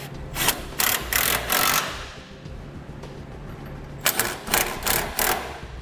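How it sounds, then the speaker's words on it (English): A ratchet tightens 5/8 inch side plate bolts on a fifth wheel trailer hitch being fitted to a 2012 Chevrolet Silverado, with quick close clicking bursts, a quieter pause, then more clicking. "Now we'll tighten up our side plate bolts, starting with the 5/8 inch bolts"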